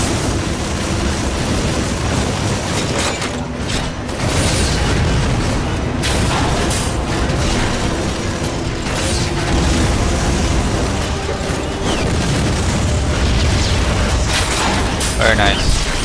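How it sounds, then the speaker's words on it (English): Grenade launcher blasts in the sci-fi shooter Lost Planet: Extreme Condition, a dense, continuous run of loud booming explosions and mechanical clatter lasting the whole stretch, mixed with game effects. "I can use a grenade launcher."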